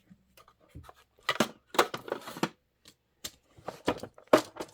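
Scissors cutting apart pieced quilt fabric blocks, giving crisp, close snips in short irregular clusters separated by quiet pauses.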